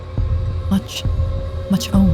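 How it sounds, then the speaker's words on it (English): A heartbeat sound effect in an animated horror story throbs low and steady, with soft thumping pulses under a quiet hum while a voice speaks briefly over it. "heart pounding"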